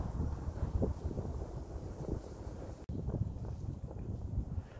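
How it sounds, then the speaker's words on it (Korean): Steady wind rushes through trees on Maebongsan hillside in Hannam-dong, Seoul, a continuous low roar with gusty rustling and buffeting, no voices. "나무들 사이로 바람소리만 들리는 듯합니다."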